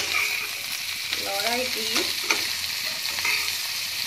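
Cabbage being stirred in a hot pan, a steady frying sizzle under scraping strokes of a spoon, close and moderately loud with no talking.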